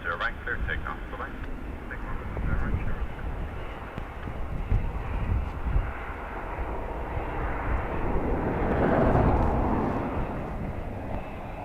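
Airliner on the takeoff roll from runway 10 right at Dublin Airport in blustery crosswind, a broad engine roar swelling steadily and peaking near the end, with wind buffeting the microphone and air traffic control talk over the top.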